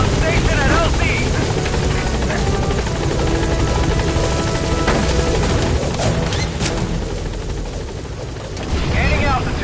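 In Metal Gear Solid 5, the Pequod helicopter's rotors roar loudly and continuously as it arrives at the landing zone, with scattered impacts and bursts mixed into the dense game sound and a voice speaking over it.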